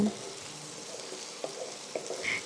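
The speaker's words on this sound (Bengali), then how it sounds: "বেশিক্ষণ ভাজার দরকার নেই দু থেকে তিন মিনিট ভাজলেই যথেষ্ট" Steady sizzling of Gobindobhog rice frying in a pan with a few soft stirring scrapes and knocks, close and fairly quiet, no voices.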